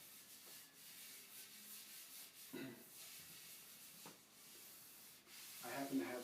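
A miracle cloth rubs across a Pantheon Halo handpan's steel shell in a few soft, brief swishes, faint against a quiet room.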